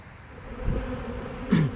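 Honeybees buzzing around comb during a hive removal from a boat, a close steady hum with one louder bee passing near the end.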